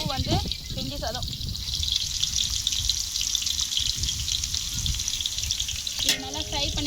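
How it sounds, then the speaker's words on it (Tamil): Onions frying in oil for vegetable rice, cooked outdoors in a field, give a steady close sizzle with occasional stirring, while people talk at the start and end. "இது நல்லா ஃப்ரை பண்ணிக்கலாம். வெங்காயம் நல்லா வதங்கட்டும்."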